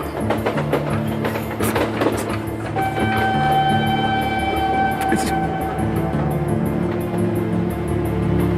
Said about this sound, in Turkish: Hocam tren geliyor.